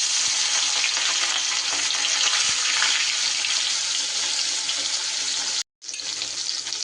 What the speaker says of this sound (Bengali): তেল সুন্দর করে গরম হলে এবার মাছগুলো আমি ভেজে নিই।